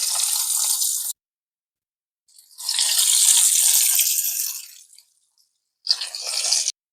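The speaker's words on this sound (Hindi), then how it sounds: "अच्छा देखें ऑयल गर्म हो गया है, हम डालते हैं स्टिक इसमें।" Coated chicken and potato sticks drop into hot frying oil and sizzle in three hissing bursts: a short one, a longer sustained spell, then a brief final burst, with silent gaps between them and no talk.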